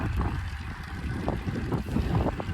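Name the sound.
wind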